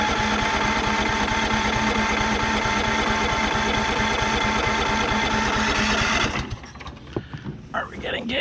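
A Cub Cadet riding mower with 139.1 hours runs with a steady, close, rough engine drone, then cuts out after about six seconds, leaving scattered small clanks.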